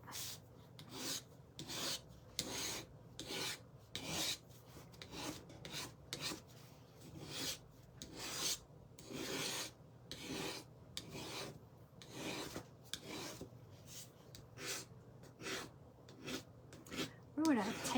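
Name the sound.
paint scraper scraping paint off wooden slats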